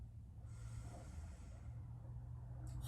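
Soft nasal inhale during a breathing exercise in a standing mobility workout, a quiet sustained airy draw lasting over a second, faint and close, with no talking.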